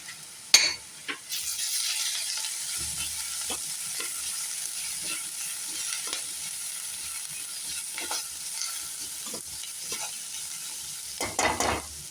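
Spices for mushroom chukka sauté in a pan with a steady, soft frying hiss, punctuated by a sharp clink early on and intermittent spoon scrapes and taps.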